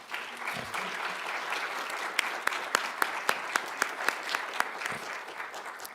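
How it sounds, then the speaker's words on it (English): Audience at a state poetry recitation finals applauds judges and officials, a sustained crowd clapping with a few sharp, close individual claps standing out in a regular run midway. "Now let's give our judges and officials a round of applause."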